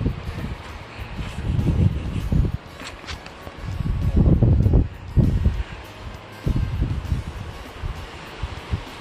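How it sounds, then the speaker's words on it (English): Brisk wind buffeting across a rocky mountain overlook at Chimney Top on the North Fork Trail in West Virginia, rough gusts that surge and fade in several waves, rumbling close against the microphone. "Yeah, that wind is a little brisk."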